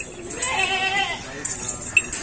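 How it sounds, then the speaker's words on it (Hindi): A pure Rajanpuri pink goat bleats in a brief wavering call at close range, with fainter bleats from other goats in the herd behind it. "छठे नंबर वाली ये बकरी आ गई है"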